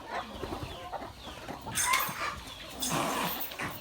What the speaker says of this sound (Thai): ไล่ไก่แล้วครับ